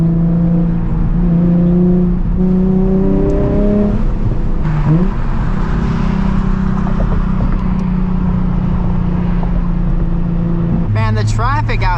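A 2007 Nissan 350Z HR sports car engine drones and rises in pitch as it revs through gears, steady and close, with a brief higher whine near the end.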